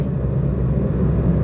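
A Vauxhall Corsa B 1.2 pulls along at about 40 mph under acceleration, with a steady, loud, low engine drone and road rumble heard from inside the cabin.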